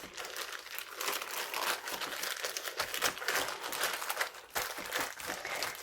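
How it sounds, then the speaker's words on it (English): A piece of plastic bag packaging is crinkled and squished into wet gesso, making soft, continuous rustling and crackling close by at low volume. "It's a plastic bag that I've cut a piece off, plastic packaging. So I'm going to squish that into the gesso."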